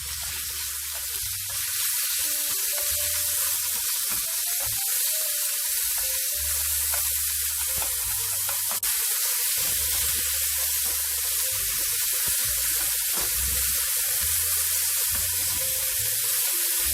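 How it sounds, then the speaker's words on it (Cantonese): Bacon sizzles in a frying pan, a continuous hissing spatter that swells and eases in bursts throughout, with no speech. "爆一爆呢個煙肉"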